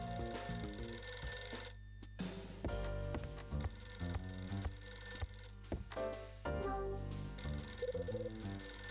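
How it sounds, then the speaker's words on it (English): A telephone rings in the Nintendo DS game The Last Window: The Secret of Cape West, its repeated bell tones sounding over steady game music and low ambient hum for several seconds. "My phone's ringing."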